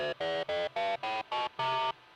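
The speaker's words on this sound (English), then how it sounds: "Do you hear how the distortion, whatever it's doing," Seven distorted synth notes play in a choppy rhythm, each a buzzy, harmonically rich tone through a distortion effects unit whose grit shifts as the pitch changes, the last note held longer, with no voice.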